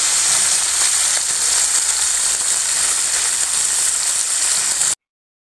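Hilsa fish frying in a little mustard oil in a wok over a strong flame gives a loud, close, continuous sizzling hiss that holds steady and then cuts off abruptly.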